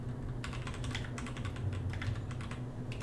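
Rapid clattering keystrokes on a computer keyboard, a close, continuous run of taps with short pauses and no talking.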